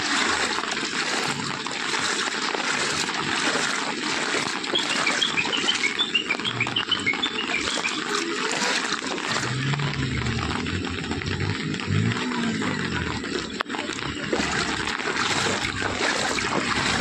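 Flood water covers the Assam Agartala road at Dharmanagar in North Tripura, making a steady loud rush and trickle, with faint bird chirps over it and a low rumble partway through.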